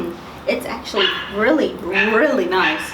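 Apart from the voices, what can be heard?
dogs barking outdoors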